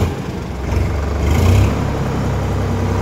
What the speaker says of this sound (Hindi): ये देखो आप ट्रैक्टर की आवाज़ कितनी प्यारी है